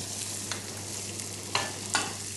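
Ingredients frying in salted butter in a pan while abalone with foie gras cooks, a steady soft sizzle throughout with a few brief sharper clinks or stirs breaking through, no voices.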